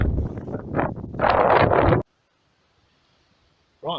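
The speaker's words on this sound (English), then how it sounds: "and it's windy." Heavy wind buffeting a microphone in loud roaring gusts for two seconds, then near silence before a brief voice at the end.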